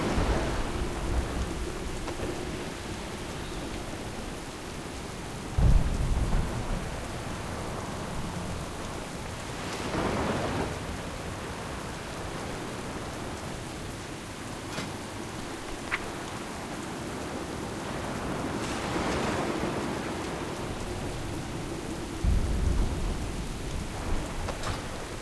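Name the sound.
thunderstorm with rain, from World of Warcraft video game movie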